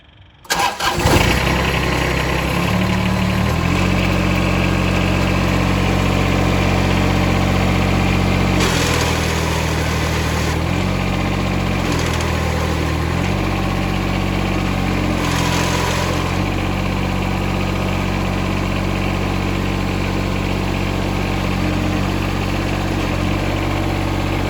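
A John Deere compact tractor engine cranks briefly, then fires and settles into a loud, steady idle up close, with a couple of short dips and rises in engine tone along the way and no talking.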